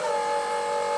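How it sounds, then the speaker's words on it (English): A BMW R1150 GS motorcycle's fuel pump priming, a steady, even electric hum with a constant tone, moderately loud and uninterrupted. "So that's the fuel pump priming."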